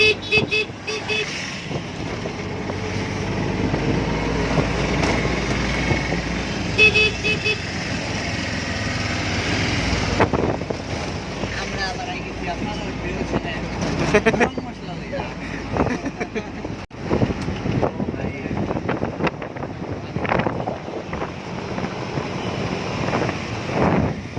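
Idling engines, wind and occasional car horn toots fill a traffic jam near the Kamakhya temple gate in Guwahati, with people talking close by over the steady street noise.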